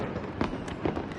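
Fireworks bursting at a New Year's celebration, two quick sharp pops a moment apart, fairly distant and moderate in level.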